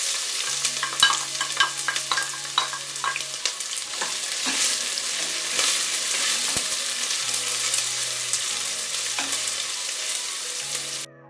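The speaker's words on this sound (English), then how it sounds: "add in your diced onions and saute for 3 to 4 minutes" Diced onions sauteing in a quarter cup of hot cooking oil for a lentil curry, a loud, steady close sizzle with scraping stirs against the pan throughout, no talking.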